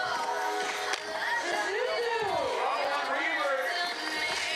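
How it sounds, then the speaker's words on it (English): Spectators cheer and roar at the 2025 Uninvited Invitational snowboard competition presented by The North Face. The crowd noise is a steady, dense wash that runs throughout, under a commentator's voice. "you love to just see that crowd that they're cheering her on after she gets up"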